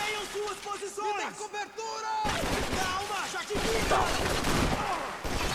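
Gunfire in the Max Payne video game, several loud shots and bursts blasting through game sound effects, with a voice speaking over parts of it.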